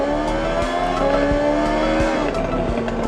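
A car drifts in the video game Forza Horizon 6, its engine droning steadily under a rising and falling tire squeal, loud and continuous with no talking.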